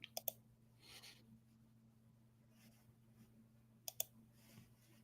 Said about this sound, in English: you can really hear the clicking of the keyboard there